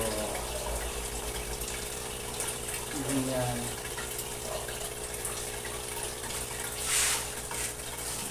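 Water gurgles and gushes steadily through an aquarium gravel vacuum siphon cleaning a tank's floor bed, a continuous close running-water wash with a brief louder splash near the end and a short spoken word over it.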